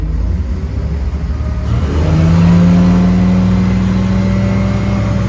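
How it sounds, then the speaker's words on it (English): Bayliner 185 bowrider with a Mercruiser 4.3L engine throttling up onto plane, a loud close engine note rising in pitch and then holding a steady droning whine over rushing water. "It really doesn't take much throttle at all to get the boat on plane"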